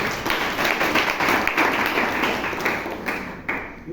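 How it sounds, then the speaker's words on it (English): A Toastmasters meeting audience claps for a few seconds, a close, busy patter of hands with a few sharper taps standing out near the end. "A huge round of applause."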